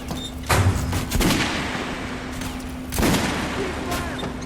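Weapons fired at the shooting range in Metro: Last Light Redux on Nintendo Switch: a few sharp reports separated by pauses, set over a steady hum and low voices in the background.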